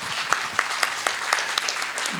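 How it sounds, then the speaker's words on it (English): A small audience claps steadily for a couple of seconds, moderately close, with no talking over it. "Let's give a round of applause to Ariel."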